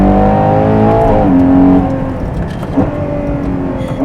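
A Ferrari Purosangue's V12 engine revs hard and then drops through downshifts, loud and close with falling, rising tonal blips and a deep rumbling exhaust note.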